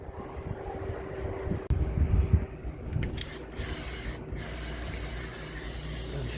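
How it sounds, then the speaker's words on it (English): A spray can of adhesive hisses in short and longer bursts during a carpet installation, close by, over a rough, rumbling background noise. "And spray a little bit of adhesive."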